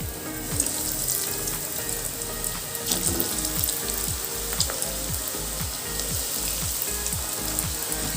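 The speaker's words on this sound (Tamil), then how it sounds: "எண்ணெய் காஞ்சோன்னே ஒரு பால்ஸாக போட்டு எடுத்துக்கலாம்." Curd rice balls deep-frying in hot oil give a steady, loud sizzle and crackle with scattered pops, heard alone without any talk.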